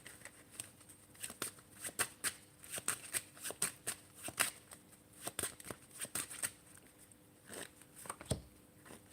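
Tarot cards are shuffled repeatedly up close, with rapid riffling bursts and crisp flicks in an uneven rhythm, fairly quiet, with no talking.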